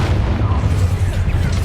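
A Bombarda blast spell booms in Hogwarts Legacy: a dense, sustained low rumble with scattered crackling pops fills the whole moment, loud and close, with faint game voice mixed underneath.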